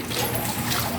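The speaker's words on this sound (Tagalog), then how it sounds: "So dito yung filter namin" An aquarium filter trickles water continuously, a close, steady watery splash and burble filling the brief moment, with no talk.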